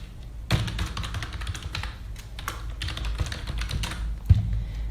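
Rapid, uneven clatter of keys on a computer keyboard as an email address is entered into an online India Post application form, close and dry with brief pauses between bursts and no talk.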